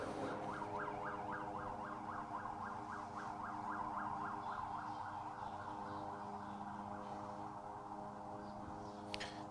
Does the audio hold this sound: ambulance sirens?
yes